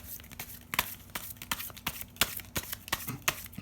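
Full 78-card Spirit Halloween novelty tarot deck being shuffled, a slightly clunky run of papery riffles and flicks with sharp card snaps, close and continuous for a few seconds.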